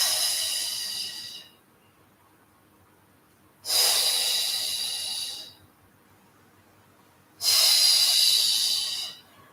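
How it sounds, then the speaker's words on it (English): Slow, deep breathing during a Pilates mat exercise, with three long airy breath sounds each lasting about two seconds and separated by quiet pauses, close and fairly loud with no talking. "Take a long inhale for 5 and a long exhale for 5."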